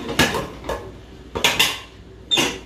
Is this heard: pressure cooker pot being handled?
yes